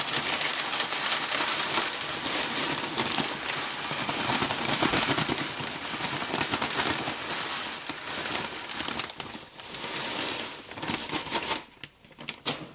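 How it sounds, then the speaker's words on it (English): Fine charcoal pours into a container in a continuous dusty rush of crackling, pattering grains, steady and close for about ten seconds before tapering into scattered settling bits. "I'm going to pour a bunch of this fine charcoal in here"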